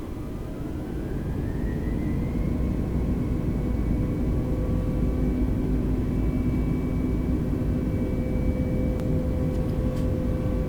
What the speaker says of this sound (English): We already have clearance for takeoff, so we can disengage the parking brake, setting thrust to toga.